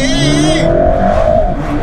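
Mercedes AMG GT Black Series engine revving hard while losing traction, a loud close roar with a brief high-pitched squeal at the start that gives way to a sustained engine tone.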